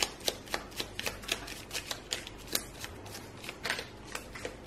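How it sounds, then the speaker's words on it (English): A deck of cards is shuffled over and over in a quick rhythm of crisp riffling bursts, close and fairly quiet, with no talking. "give them a good shuffle."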